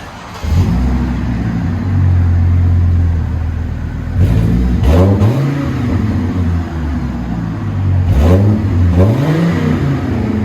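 Viper truck engine with a quieter exhaust, idling in a steady rumble then revved in two pairs of sharp rising-and-falling throttle blips, close and loud, no talking.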